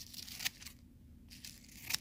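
Scissors trim the edges of a paper piñata shaped like a number, giving faint crinkling and snipping paper sounds in two brief bursts, close and quiet.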